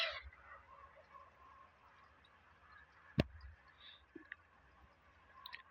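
Faint, scattered goose honks over a quiet outdoor background, with one sharp louder call midway and a few short distant ones after.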